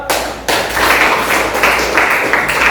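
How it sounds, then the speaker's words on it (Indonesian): A classroom of students claps for a classmate during a science lesson on human excretory organs, with a brief tap first and then a dense, sustained burst of applause. "Kasih aplaus"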